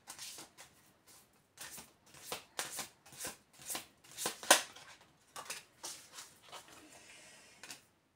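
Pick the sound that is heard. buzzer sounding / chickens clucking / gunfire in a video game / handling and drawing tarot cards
handling and drawing tarot cards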